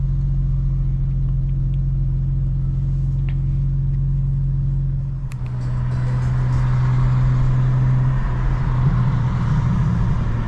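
A 2025 BMW M4 CS rumbles at a low steady idle, then pulls away midway, its engine note rising into a broader, louder drone with road noise.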